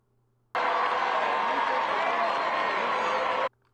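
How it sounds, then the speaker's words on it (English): Dense, steady crowd applause with cheering from a sizable gathering, starting abruptly, holding at an even loud level for about three seconds and cutting off sharply. "People clapping, clapping, clapping."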